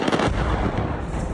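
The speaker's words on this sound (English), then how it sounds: "explosions seen across the Venezuelan capital" Explosions over Caracas, Venezuela, boom and rumble in a dense, loud, continuous roll of blasts, with no voices.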